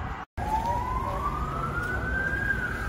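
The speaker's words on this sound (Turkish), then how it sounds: "Her yerde siren sesi." Emergency vehicle sirens wail steadily after the İzmir earthquake, pitch rising slowly, loud and close against a constant roar of background noise after a brief dropout.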